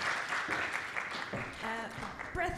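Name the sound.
applause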